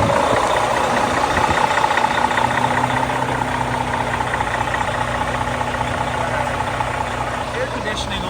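A 2016 Freightliner triaxle knuckleboom truck with a Detroit engine idles close by, a steady loud diesel rumble with an even mechanical clatter and a faint hum layered on top.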